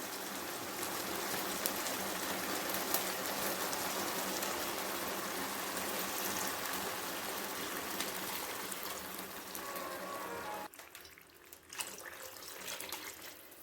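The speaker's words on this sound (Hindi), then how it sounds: "अब मैं इसके अंदर पानी शामिल कर देती हूँ।" Water pours steadily into a cooking pot of soaked rice and potatoes, a continuous splashing rush heard up close for several seconds before it briefly cuts off, then resumes faintly.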